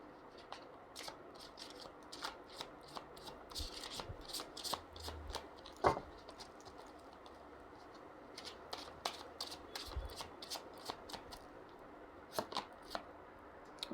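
Tarot cards are shuffled by hand, with soft, quick riffling flicks and slaps that come in irregular bursts over a quiet room and recur for several seconds, close and fairly faint.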